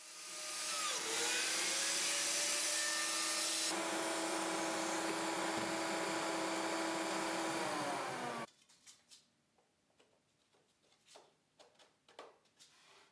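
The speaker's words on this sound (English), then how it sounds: "The Mighty Biscuit joiner makes quick work of the joinery" A biscuit joiner cuts slots in bowed MDF with a loud steady motor whine that spins up and winds down over about eight seconds, then gives way to quieter scattered knocks and handling sounds.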